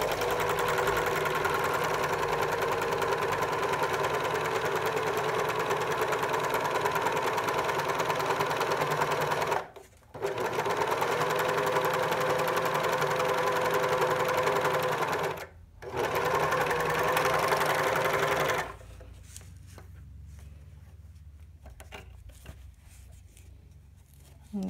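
A domestic sewing machine runs a zigzag or overlock stitch around the edge of a cropped jacket, a steady close whir broken by two short pauses, then stopping near the end with only quiet handling left.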